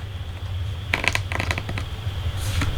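Cardstock for a flip-out greeting card is trimmed with a handheld cutting tool, giving a quick cluster of crisp, close snipping crunches in the middle and a lighter cut near the end, over a low hum.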